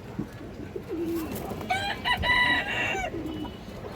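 Aluminium silver pigeons kept in a loft, calling in a short burst of bright, chirpy tones over a steady murmur of background noise, moderately near and mid-level in loudness.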